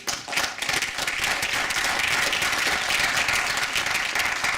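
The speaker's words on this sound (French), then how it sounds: "Donc on peut encore les applaudir." An audience at a hackathon project presentation and prize ceremony applauds, a sustained, even burst of many hands clapping at fairly close range that holds steady throughout with no talking over it.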